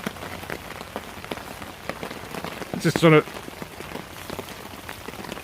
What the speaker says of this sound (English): because it's continuously raining